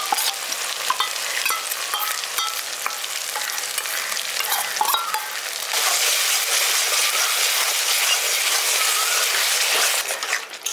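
Spice paste mixed in water is added to hot oil with softened tomato for a village-style chicken kosha and stirred: a loud, steady sizzle with scraping strokes that grows denser and fuller partway through.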